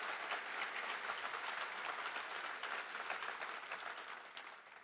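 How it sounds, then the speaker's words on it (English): A convention audience of party members claps after speeches, a continuous even patter of many hands, fairly distant and soft, tapering slightly toward the end. "Let's give them another big round of applause."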